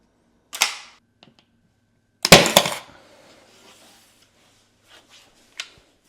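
Pin nailer firing into a small wooden trim piece during a home renovation: a sharp snap, a louder double burst of shots, then a last crisp pop, each short and close with quiet gaps between.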